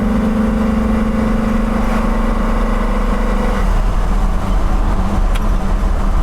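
A 1960 Pontiac Laurentian pulling hard in second gear, a loud steady engine drone heard from inside the car that holds for several seconds before the pitch shifts down as the revs change.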